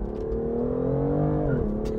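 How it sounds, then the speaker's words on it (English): A 2020 BMW M2 CS engine roars loud and close under hard acceleration, pitch climbing steadily before dropping abruptly at the shift into second as the tyres spin. "I just got wheel spin shifting in the second, I think."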